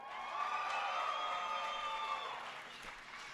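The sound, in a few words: audience cheering for OpTic Gaming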